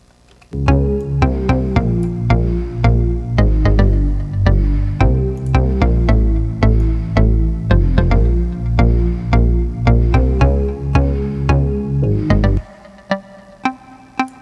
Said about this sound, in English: Large round reverb.